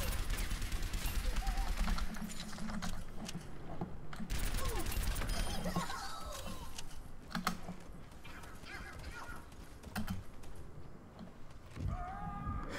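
Gunfire in the Overwatch video game comes as rapid, crackling bursts of shots mixed with other busy game effects, with steady clatter throughout and louder flurries near the start and middle.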